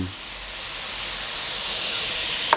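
Pork belly stir-fried with stink beans, shrimp paste, torn kaffir lime leaves and red chilli, a loud continuous hissing sizzle that swells slightly and ends with a brief clatter.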